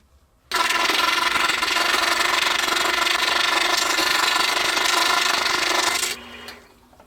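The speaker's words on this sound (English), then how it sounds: "I'm going to cut it out at the scroll saw" Scroll saw cutting a wavy line through a sheet of ABS plastic, a loud, steady rasping buzz that starts abruptly, holds for about five and a half seconds, then cuts off and fades.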